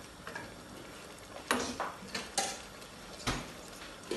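A lid is set on a cooking pot of kulai sadham, giving a few light metallic clanks and knocks, spaced about a second apart over quiet kitchen background.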